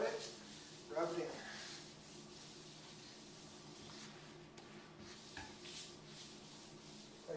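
Sealer rubbed by hand into a granite countertop during a fourth coat gives a soft, steady swishing rub throughout, with a few louder strokes near the start and again midway, close and low in level.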